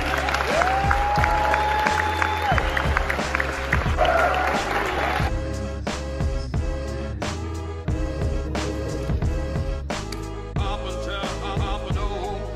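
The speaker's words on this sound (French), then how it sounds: "Un tonnerre d'applaudissements pour Viggo Mortensen." Applause rolls steadily throughout, a dense film festival audience in Marrakech clapping at a loud, even level over a continuous musical backdrop.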